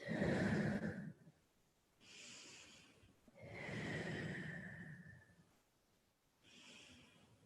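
Slow, deep breathing during a yoga forward fold, head towards the knee: long audible inhales and exhales alternate with quiet gaps, close and soft, with a breathy sigh-like rush on each breath.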